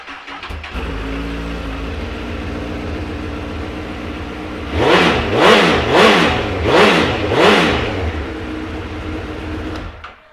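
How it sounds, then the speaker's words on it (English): A 2008 Honda CBR1000RR sport bike engine starts and settles into a steady idle, then gets five quick sharp throttle blips in a row before dropping back to idle, all close and loud with no voices. "Give it a cheeky start up for you."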